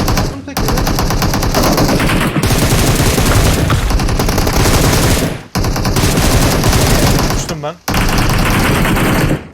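Sustained automatic gunfire from an M249 light machine gun in PUBG Mobile, loud, rapid and continuous bursts with a few brief gaps, while players talk over the shooting.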